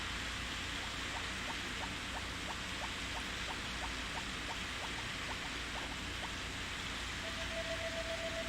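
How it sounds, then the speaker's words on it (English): Steady rain in the video game Harvest Moon Back to Nature, a constant soft hiss of falling water with a faint run of light ticking taps and a brief tone near the end. "Oh my, it's raining outside."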